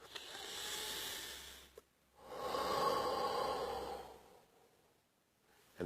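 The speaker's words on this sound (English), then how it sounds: "Take a deep breath." A single deep breath in, drawn slowly over a couple of seconds, then a long, soft exhale of about two seconds, close and quiet with no speech.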